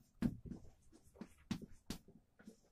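Numerals are handwritten with pen or chalk in a series of short, scratchy strokes and taps, close but quiet, with brief pauses between marks.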